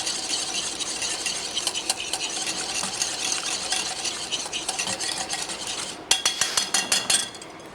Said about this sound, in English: The pancake is started with egg yolks. We're going to add the sugar to that. Just whisk them up nice